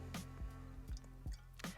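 Water dripping through a trail coffee maker outdoors, five faint, distinct drips in an uneven rhythm over a low, steady hum, with no talking.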